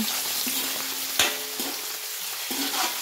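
Garlic, onion and boiled chicken breast sizzle steadily in a hot pan, with a few stirring scrapes and small clatters punctuating the frying across the clip, close and fairly loud.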